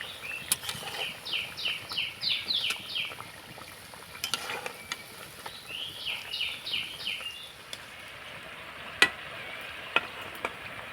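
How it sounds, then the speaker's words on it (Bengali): Palm-juice gujiya fry in oil over medium heat, a faint, soft sizzle with light scraping and clinks of a utensil at intervals and occasional sharp taps. "মিডিয়াম আছে ভেজে নিতে হবে।"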